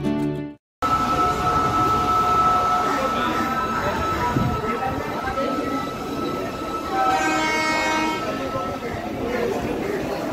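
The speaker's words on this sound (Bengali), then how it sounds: "এই হচ্ছে কান্ডারি এক্সপ্রেস" Kandari Express standing at a Howrah station platform, a steady rumble of trains and station bustle with a faint squeal near the end, after a brief silent gap at the start.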